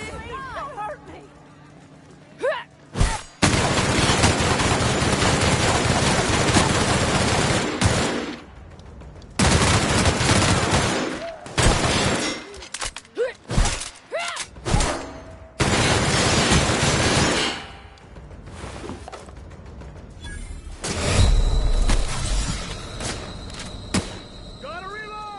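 Sustained bursts of gunfire from The Outer Worlds, loud and dense, in long stretches broken by short pauses, with scattered shouting underneath.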